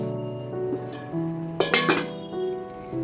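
Metal clatter in a home kitchen as a lid goes onto a cooking pot of thin fish and potato curry, a few sharp clinks and a scraping rattle near the middle, close up and with no talking.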